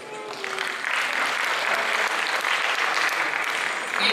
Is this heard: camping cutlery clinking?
no